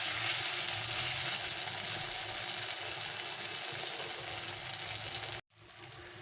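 Ginger and garlic paste fries in a pan as masala for a Bengali pomfret curry, giving a loud, steady sizzle that runs unbroken for several seconds before a sudden brief cutoff near the end.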